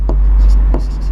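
Pen scratching out the distance formula by hand on paper, two short close strokes over a steady low background hum, no voices.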